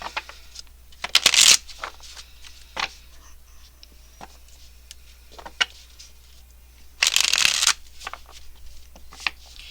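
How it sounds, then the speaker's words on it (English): Tarot cards being shuffled in two crisp, close riffling bursts separated by quieter handling and light clicks of the deck. "So let me get the cards out."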